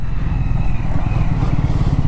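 Triumph Scrambler 400 XC motorcycle with a 400cc engine riding along, a steady low engine drone with rumbling wind noise, loud and continuous with no talk.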